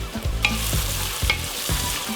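Chopped red bell peppers sizzle and fry together with red onions and garlic in a hot pan, with a steady close crackle broken by a few sharp scraping stirs.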